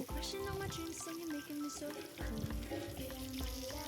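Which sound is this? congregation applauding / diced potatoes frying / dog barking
diced potatoes frying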